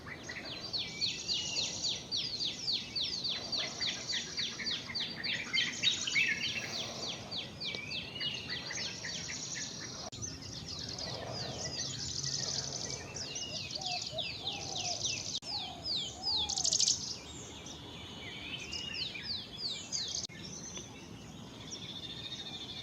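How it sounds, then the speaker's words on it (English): A white-browed bulbul calls from a wire in village bushland in Goa, with repeated bright chirping phrases rising and falling over about twenty seconds alongside other birdsong and a faint insect hum. "The white-browed bulbul cleanses its feathers, then alights upon the wire, where its clear call begins to fill the air."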